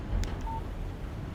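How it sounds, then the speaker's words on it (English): A short electronic text message alert chimes from a phone in the video game Alan Wake Remastered, a brief tone sitting over low background rumble and game ambience. "Text message from Barry."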